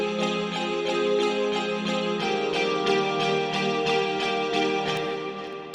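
A driving indie rock groove with drums and sustained tones, produced in FL Studio, drenched in heavy reverb so each hit blurs into a washy, echoing tail.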